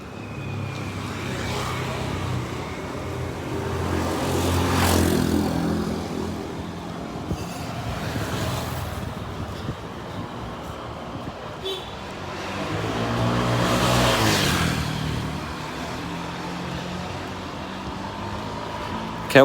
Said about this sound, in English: Can't walk anywhere without motorbikes ripping by you.